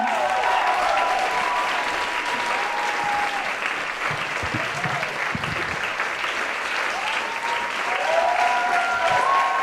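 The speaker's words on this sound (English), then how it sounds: "Give a big applause for Jules Gleeson!" Steady, loud applause from a comedy show crowd fills the whole stretch, with a few faint whoops rising above the clapping.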